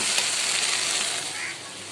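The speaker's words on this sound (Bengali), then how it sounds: "এই তো এটা ভুনা করে নিচ্ছি" Curry being sautéed bhuna-style in a pan, a steady close sizzle and hiss of frying oil that fades slightly toward the end.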